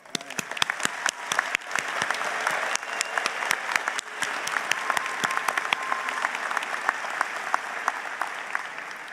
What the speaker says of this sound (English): let's take a moment to acknowledge our grads with a round of applause